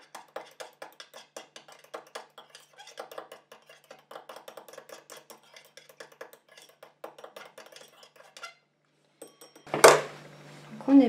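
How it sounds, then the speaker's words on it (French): A light, rapid clicking and tapping of a utensil stirring the water phase of a homemade hand cream in a small container, steady for several seconds, then a brief louder clatter near the end. "Et je viens mélanger ma phase aqueuse pour que le Coast Guard se mélange bien à"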